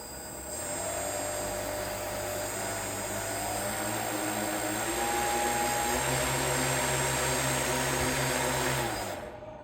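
Brushless motor driven by an ESC spinning up as the throttle rises, a steady loud whine with rising harmonic tones that holds for most of the stretch, then cuts off abruptly near the end.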